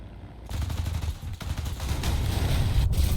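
Aircraft machine guns fire in the combat flight game War Thunder, a continuous rattling burst of rapid gunfire over engine drone that starts after a brief pause and holds steady for about three seconds.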